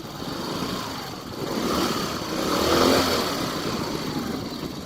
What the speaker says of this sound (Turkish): motorumuzu kapattık. Yeniden bir çalıştıralım. Şöyle bir gaz verelim arkadaşlar